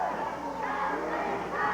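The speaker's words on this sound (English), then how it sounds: "Crowd trying to get behind the very popular Sam Houston." A wrestling arena crowd cheers and roars for the popular Sam Houston at a 1990 televised match, a broad rowdy din of voices with shouts rising and falling throughout.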